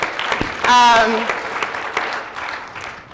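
Audience applause at a conference panel, a dense moderate round of clapping that starts right after a brief spoken word and continues steadily before tapering off.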